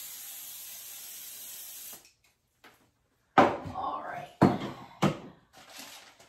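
Cooking spray is sprayed onto bread dough and the paper beneath it in a few short, loud hissing bursts separated by brief pauses, with quieter handling sounds between them.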